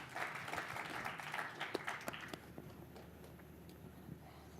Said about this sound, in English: Ladies and gentlemen, big round of applause for Mr.